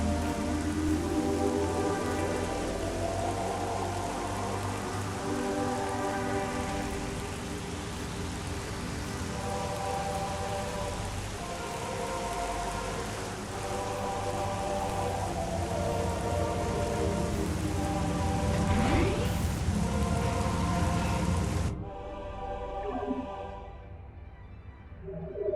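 Rain in Metroid Prime Remastered falls in a dense, steady hiss of drops mixed with music, continuing for over twenty seconds before thinning out abruptly near the end.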